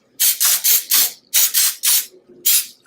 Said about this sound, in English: I'm going to use this baking spray that already has flour in it and butter flavor